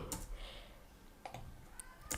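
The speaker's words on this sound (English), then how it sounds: "I'm typing this command /play" Computer keyboard keys being typed for a command, a handful of soft, sparse clicks spread unevenly over a faint background hiss.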